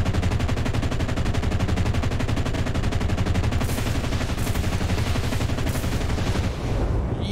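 Rapid machine gun fire in the World War II shooter Enlisted, a dense unbroken stream of rounds that stays loud and steady for several seconds with no speech.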